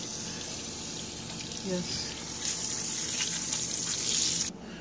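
Rinse water flows steadily out of a Caterpillar intercooler during ultrasonic cleaning, a constant hiss and splash that swells louder toward the end before cutting back, with brief talk over it.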